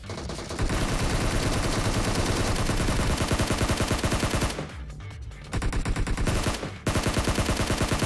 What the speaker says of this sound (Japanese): 撃って撃って撃って撃って